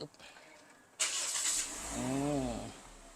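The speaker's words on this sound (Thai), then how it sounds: "เดี๋ยวขออนุญาตสตาร์ทก่อน" A 2019 Toyota Corolla Altis 1.8S engine starts with a sudden burst and settles into a steady idle, while someone speaks briefly over it.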